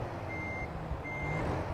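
Two evenly spaced electronic reversing beeps from a backing truck in American Truck Simulator ring out over a low, steady diesel engine rumble.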